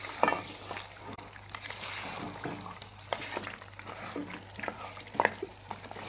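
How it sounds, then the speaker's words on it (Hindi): Mutton trotters are stirred and fried in masala in a pot, giving a low steady sizzle broken by repeated scraping and clinking strokes of a spoon against the metal. "इसको मैं थोड़ी देर भून लूँगा मसाले के अंदर"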